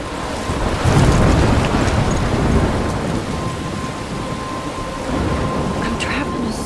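Thunderstorm in the video game Life Is Strange: steady heavy rain hiss with low rolling thunder rumbles, loudest early then easing, with wind behind and a faint tone running through.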